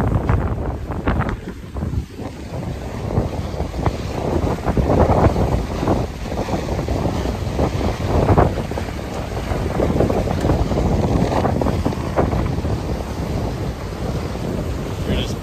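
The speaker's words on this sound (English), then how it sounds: "It's gusty." Strong, gusty wind roars and buffets the microphone continuously, rising and falling in loud surges with a low rumble underneath.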